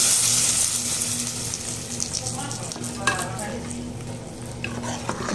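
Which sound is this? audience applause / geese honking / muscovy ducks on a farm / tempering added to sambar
tempering added to sambar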